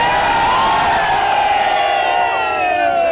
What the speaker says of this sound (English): They're also cheering for Yakub Memon's execution.